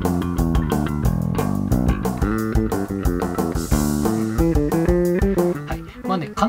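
An electric bass played through a preamp set to a mid-boosted, scooped-ends EQ with treble and bass cut rings out a busy, punchy line of notes, loud and solo with no talking.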